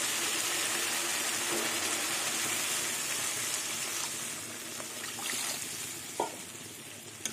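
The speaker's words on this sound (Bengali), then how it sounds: "দেখুন মশলা দিয়ে তেল ছেড়ে দিয়েছে, এবার জল দিয়ে দেবো" Water is poured into a pan of small Ganges river fish cooking in mustard masala and oil, producing a continuous, even rushing hiss and sizzle that holds steady, with a couple of soft knocks near the end.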